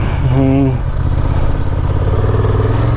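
A 2023 Honda Transalp 750 motorcycle rides across sand. A steady mid-pitched engine hum rises briefly, with a rider speaking over it.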